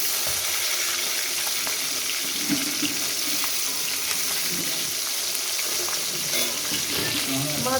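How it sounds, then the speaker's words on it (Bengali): Fish frying in a pan for a spicy fish curry gives a loud, dense, unbroken sizzle close by, hissing like running water, with scattered faint knocks. "মাছগুলো ভাজা হয়ে গেছে"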